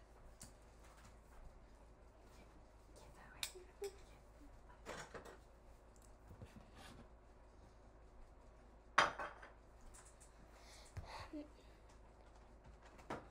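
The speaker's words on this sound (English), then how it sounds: "Put it back in the frying pan" Food is stirred in a frying pan, with scattered metallic scrapes and clinks of a utensil against the pan, quiet with a faint voice in the background.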